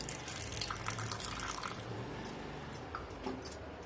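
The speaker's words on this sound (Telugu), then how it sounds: "వాటర్ పోసుకోవాలి. నీళ్ళు" Lukewarm water poured onto flour and yeast for pizza dough, heard as a faint, steady trickling and splashing that runs close by for a few seconds and then thins out, with no talking.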